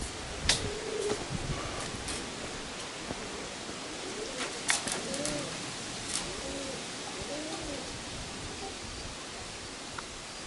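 Wild pigeons coo softly at Rohia monastery in Romania, their repeated low calls fairly faint against outdoor background noise and light rustling.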